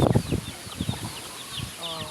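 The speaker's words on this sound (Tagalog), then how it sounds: "mag-alaga tayo ng manok" Backyard chickens raised at home cluck in short bursts and flap their wings close by, followed by quieter scattered clucks and soft rustling.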